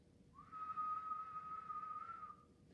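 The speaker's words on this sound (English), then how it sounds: "If I try and whistle a single note" A single steady whistled note holds for about two seconds, clear and alone against quiet background hiss.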